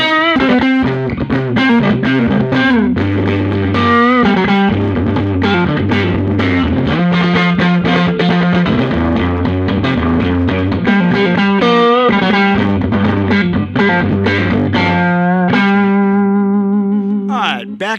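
An overdriven electric guitar plays a steady riff of chugging low notes and quick higher licks through a Ruby Ray amp with mid boost off, loud and up close.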